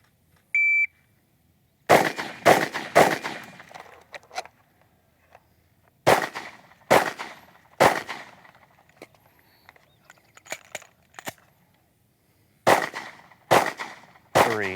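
Live gunfire during a shooting training drill opens with a short timer beep, then sharp, loud shots come in quick strings of three or four, separated by pauses, with echoes trailing each burst.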